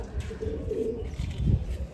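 Pigeons of racing bloodlines kept in a loft, cooing softly in low murmuring calls close by, with a louder coo near the end over faint background noise.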